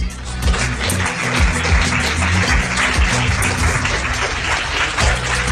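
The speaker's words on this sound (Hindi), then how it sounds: "सनम के लिए जोरदार तालियां।" Enthusiastic applause from a studio audience for a contestant, a dense, steady wash of clapping that stays loud and even throughout with no pauses.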